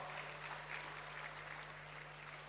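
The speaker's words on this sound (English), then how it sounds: "Please put a round of applause for her." An audience at a university convocation applauds, a dense, even patter of clapping from many hands heard faintly and steadily throughout, with no talking.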